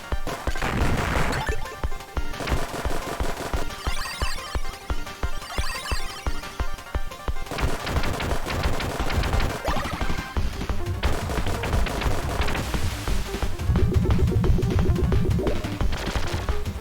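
Explosions and gunfire from Contra: Hard Corps during a boss fight, a dense, loud barrage of crashing blasts and rapid shots that runs without a break over game music for the whole stretch.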